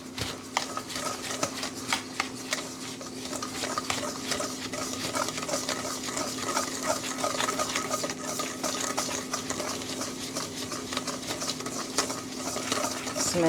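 A spoon stirs cinnamon and mixed spice into a Jamaican cornmeal pudding batter with coconut, making a steady, soft scraping and sloshing against the bowl that continues throughout with no talk.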